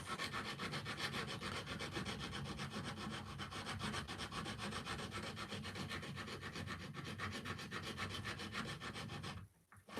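Steady close rubbing of a tool smoothing a wood carving, a continuous dry rasping scrape in quick even strokes that stops abruptly near the end, with no voices.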